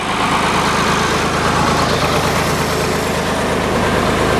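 Tractor engine idling in a field while a food plot is prepared, a steady loud low rumble with an even throb that runs unbroken throughout, with no voices.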